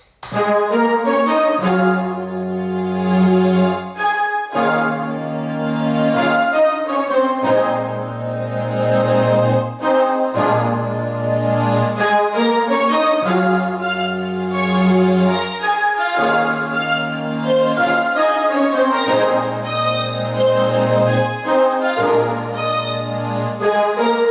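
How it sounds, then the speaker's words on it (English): Sustained orchestral layer of French horns and flutes playing broad held chords, full and loud, with no talking. "So it's kind of like French horns, and then I also added a layer of flutes along with it."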